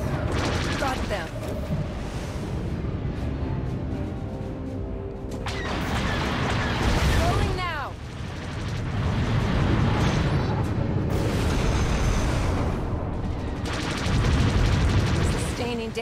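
Rapid bursts of gunfire and heavy blasts in a video game space battle, loud dense volleys swelling and fading across the span, with in-game voices speaking over the din.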